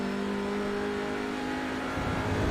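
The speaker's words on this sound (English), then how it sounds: "Sounds like they're on the limiter forever in these cars, but it's just a slight delay from iRacing's side." Race car engine held on the rev limiter in the iRacing sim during a TCR touring car race at Watkins Glen, a steady loud buzzing drone that swells slightly near the end, with no voices.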